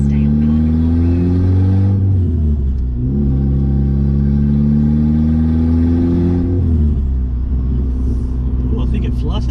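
A turbocharged Mazda 323 Familia with a loud exhaust revs up and drops back twice from close by. Turbo flutter and a deep exhaust rumble follow each lift-off, with voices inside the car.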